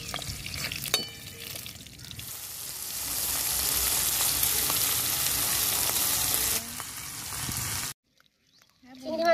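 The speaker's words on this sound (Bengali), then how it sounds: "চিংড়ি মাছ হালকাই ভাজবো, বেশি ভাজবো না।" Shrimp fry lightly in a pan with a bright, steady sizzle, bubbling and some stirring. The sound cuts off near the end, and a brief bit of talk follows.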